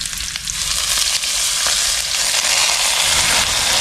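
Capiz shellfish sautéing with onion in a hot pan, giving a loud, steady sizzle and crackle throughout with faint stirring scrapes and no voices.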